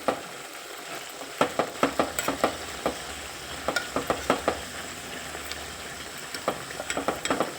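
Homemade hair oil with fenugreek seeds heats in a pan on a low flame, giving a soft continuous sizzle broken by a series of sharp crackling pops and spatters. No one speaks.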